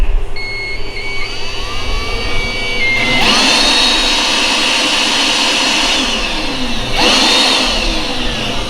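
An aftermarket cordless blower with a brushed, variable-speed motor, powered by a DeWalt 20V Max battery, whines loudly up close, its pitch climbing and falling as the trigger is squeezed and eased, with no voices.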